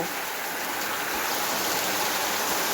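Steady rain falls continuously, a dense broadband hiss like water pattering on surfaces, loud and even throughout with no voices.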